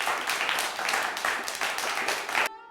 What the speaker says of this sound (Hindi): भीड़ तालियां बजाने लगी।